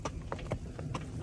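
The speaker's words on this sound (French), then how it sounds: "c'est la première fois que tu mènes un cheval" Hooves of a horse pulling a horse-drawn caravan clip-clop in a steady, close rhythm of about five or six sharp knocks over rumbling road noise, with no talking.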